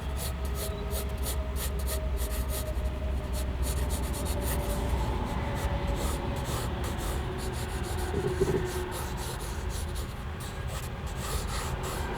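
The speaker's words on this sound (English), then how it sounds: "I'll try to do a little sketching while I'm sitting out here" A pencil scratches and rubs across a sketchbook page outdoors, a steady close-up scribbling of quick strokes and shading that runs continuously without any talking.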